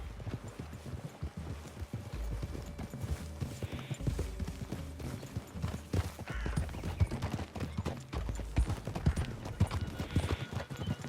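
Steady clip-clop of horse hooves trotting in Red Dead Redemption 2, continuous and fairly loud, with scattered clatter and a faint whinny in the mix.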